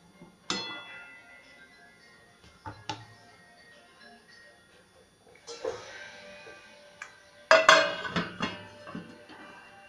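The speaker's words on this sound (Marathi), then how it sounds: "मी आता याच्यावरती झाकण ठेवत आहे." A lid is set on a cooking pot of banana sheera, giving several separate metallic clinks and knocks spread out over several seconds. The loudest cluster of rattles comes near the end.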